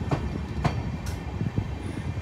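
An Amrit Bharat Express passenger train pulls into a station, giving a steady low rumble with a few regular wheel clacks, heard close from on board.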